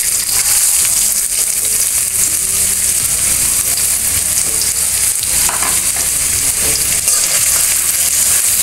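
Onions fry in oil in a pan for a dhaba-style egg curry, a loud, steady sizzle with stirring scrapes running throughout and no talking.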